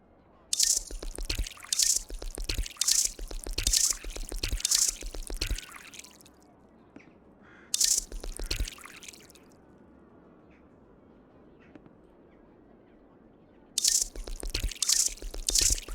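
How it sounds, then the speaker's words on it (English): Bursts of splashing, dripping water as plants are watered in the video game Drug Dealer Simulator, several rapid pours in quick succession, a pause, one more pour, then another cluster, fairly loud against a quiet background. "you can just spam it and just keep on giving it water and water and water."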